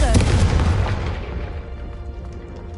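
A Confringo spell blast in Hogwarts Legacy booms loudly at the start and then decays into a long rumbling fade.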